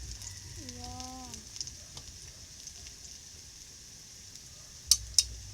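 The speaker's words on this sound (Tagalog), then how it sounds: "Ito yung saging kanina. Niluluto ko." Banana frying in a pan, a soft steady hiss of oil running throughout at low level, with a few tonal squeaks early on and two sharp clinks of a utensil near the end.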